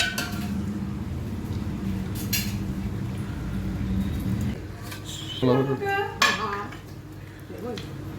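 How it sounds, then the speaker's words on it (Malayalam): Beef curry with tomato paste is stirred in a pot, a spoon scraping and clinking against the metal at intervals, and a voice speaks briefly partway through. "നന്നായിട്ട് ഇളക്കി കൊടുക്കുന്നുണ്ട്"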